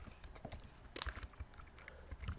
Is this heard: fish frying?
no